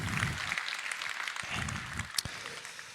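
Moderate applause from residents and property owners at a town meeting in Le Touquet, a steady patter of clapping with a few sharper claps, no voice over it.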